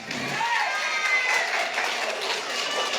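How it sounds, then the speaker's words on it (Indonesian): Women in a church congregation applaud during a sermon, a dense, continuous wash of clapping that stays loud and even throughout, with crowd murmur mixed in. "Yang ibu-ibu tepuk tangan."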